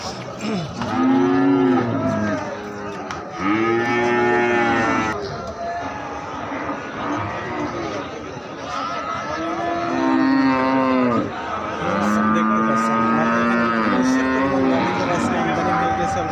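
Several Brahman cows moo loudly and close by at the Alamdanga cattle market in Chuadanga, long drawn-out calls repeating across the clip, with a busy crowd murmuring underneath.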